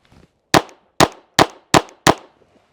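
A Glock 44 .22LR pistol fires five sharp, loud shots at a steady pace, each crack ringing briefly before the next. No one talks.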